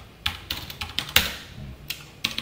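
Keys on a computer keyboard are typed in short, uneven bursts of light, close clicks with brief pauses between strokes.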